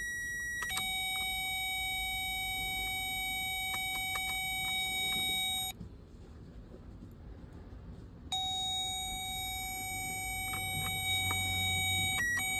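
A Toyota Camry power window motor runs with a steady tonal whine while the window moves down, stops for a few seconds, then runs again as it moves back up. No one speaks.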